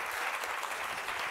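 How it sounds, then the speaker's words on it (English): An audience at a talk with Dr. Jen Gunter on hormones gives a second round of applause. A dense, continuous wash of clapping, even in level, with no voices. "I think that deserves a second round of applause"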